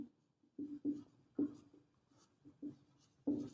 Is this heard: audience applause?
no